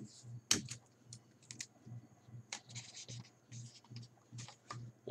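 Adhesive tape is pressed and smoothed onto the plastic fins of a bottle rocket with one hand, giving quiet scratchy rubs, soft taps and short crinkles in an irregular rhythm, close and faint.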